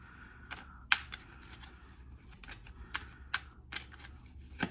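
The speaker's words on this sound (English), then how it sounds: "So I'm just going to shuffle them in front of you." Crisp, irregular papery clicks and flutters of tarot cards being shuffled close by, with a few sharper snaps standing out against a quiet background.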